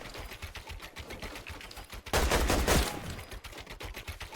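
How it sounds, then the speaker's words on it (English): Gunfire in the video game Fortnite during a 1v1 build fight, rapid repeated shots in a steady rhythm with a louder, denser burst in the middle. "We're gonna shoot down."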